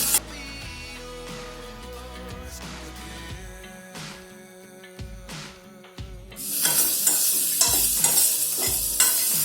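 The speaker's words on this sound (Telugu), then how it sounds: "ఇలా మూత పెట్టకుండా అట్లీస్ట్ ఒక ఫైవ్ మినిట్స్ ఫ్రై చేసుకోవాలి" Bitter gourd frying in an open pan, stirred in repeated scraping strokes over a continuous sizzle that swells into a louder, brighter hiss toward the end, with no talking.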